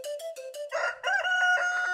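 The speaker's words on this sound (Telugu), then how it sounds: "అల్లగో ఆ కోడి." A rooster crows loudly and close by, one sustained cock-a-doodle-doo that rises after a short lead-in of choppy notes and holds steady to the end, with no talk over it.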